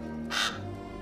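A crow or raven gives a single harsh caw, brief and clear, over a quiet background.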